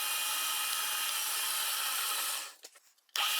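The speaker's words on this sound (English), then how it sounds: "I'm drilling here just a few millimeters to sink the head of this bolt." A drill bores a shallow hole a few millimeters into wood to sink a bolt head for a wooden workbench leg vise, a steady close whirring grind that stops abruptly near the end.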